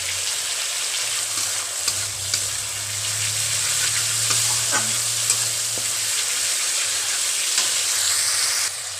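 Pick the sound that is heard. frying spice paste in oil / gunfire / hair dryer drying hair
frying spice paste in oil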